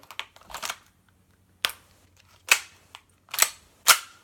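A Tokyo Marui Night Warrior airsoft pistol dry-fires with an empty magazine, giving a series of sharp, close mechanical snaps spaced irregularly about a second apart, with quieter slide and handling clicks between them.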